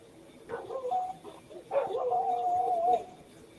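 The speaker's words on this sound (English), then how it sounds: "I hear dogs howling." Wolves howling in drawn-out, wavering wails, one short cry and then a longer sustained howl, moderately near over a low background hum.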